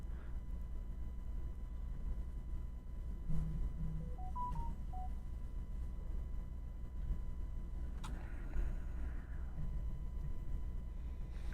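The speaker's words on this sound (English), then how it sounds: "Yep, got a politics text message." A phone chimes with a short text message notification, a brief run of stepped electronic tones standing out over a steady background hum in a room.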